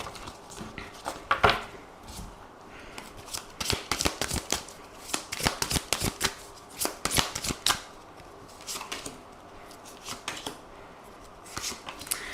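Oracle cards being shuffled during a tarot-style reading, repeated riffling bursts and soft slapping flicks in uneven clusters, close and fairly quiet, with almost no talking.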